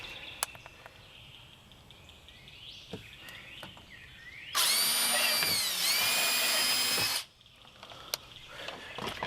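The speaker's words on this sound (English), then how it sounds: "So we're gonna drill the hole right here by this first little notch," A loud power drill whirs steadily for about two and a half seconds drilling a hole, starting and stopping abruptly, with faint clicks and birdsong around it.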